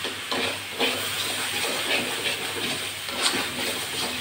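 Green amaranth leaves stir-fried in a pan with a spoonful of sugar give a steady, close hiss and sizzle, with soft rhythmic scrapes as the greens are turned and the water cooks off.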